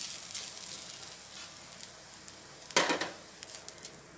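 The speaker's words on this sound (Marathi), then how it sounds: "आता आपण त्यामध्ये खोबऱ्याचा पीस घालून परतून घेणार आहोत. मी 1-2 मिनिटं छान परतून घेणार" Chopped onion and coconut pieces sauté in a pan for a coriander-leaf bhaji, giving a faint, steady sizzle with one louder stir-and-scrape burst midway and a few light clicks after.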